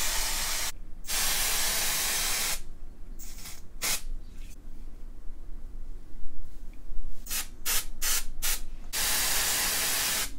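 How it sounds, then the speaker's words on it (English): A hair color spray can hisses in several long and short bursts, close and loud, with brief pauses between sprays. "So I'm gonna spray it a little more."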